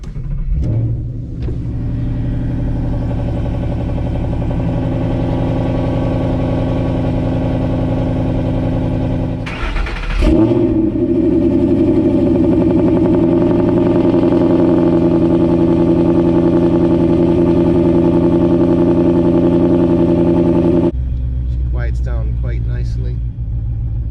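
Ford Boss 302 V8 semi-cold starting with a sharp crank and catch, then idling loud and close with a rough, lumpy rumble, briefly blipped near the midpoint; a voice speaks over it toward the end.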